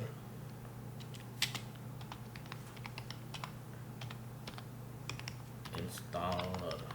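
Computer keyboard clicking as a Composer install command is typed, with quick irregular keystrokes, fairly close, and a short murmur of voice near the end.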